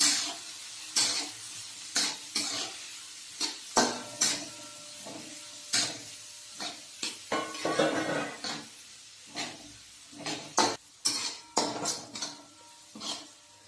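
Finely chopped onion being sautéed for biryani rice, with repeated metal spoon scrapes and clinks against the pan at an irregular rhythm over a faint sizzle, close and fairly quiet.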